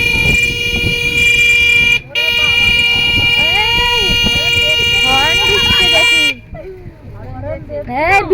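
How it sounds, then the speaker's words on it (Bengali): A car horn honks in long, loud, sustained tones near a village home on a trip toward the Sundarbans, with voices and other sliding tones mixed in, then cuts off toward the end. "হর্ন মারছে এই জন্য।"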